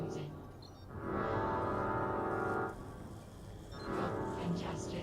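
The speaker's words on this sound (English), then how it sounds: "Sometimes you want to make a little noise. Up, up, up. That's where the air horn comes in." Two long, blaring air horn blasts in the video game Vox Machinae, each about a second and a half, separated by a short pause, loud and sustained.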